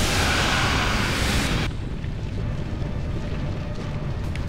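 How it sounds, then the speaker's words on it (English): A grenade blast in the Mass Effect video game, a loud sustained roar of broadband noise for about a second and a half, cutting off abruptly into a lower rumbling din of combat ambience. "Let me throw a grenade."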